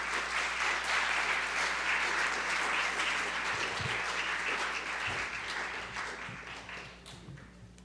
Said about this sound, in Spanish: presento y le brindamos un fuerte aplauso al arquitecto Juan Alanís Tamés.